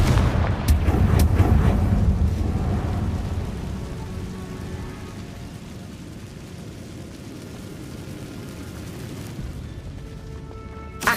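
A Confringo fire-blast spell goes off in the Hogwarts Legacy video game, a loud booming blast with sharp cracks at the start that rolls off into a long rumbling decay and then settles into quieter ambience.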